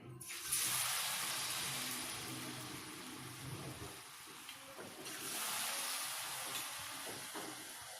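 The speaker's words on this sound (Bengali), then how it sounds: "আর বাকি যেগুলো আছে সেগুলো দিয়ে দিচ্ছি তেলে" Potato pakoras sizzle as battered pieces are dropped into hot oil, a continuous bright crackling hiss that swells at the start and again partway through, steady and close with no talking.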